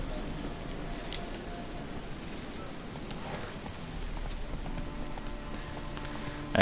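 Horse hooves in The Witcher 3: Wild Hunt clop in a steady, fairly quiet rhythm under a constant wash of ambient game noise.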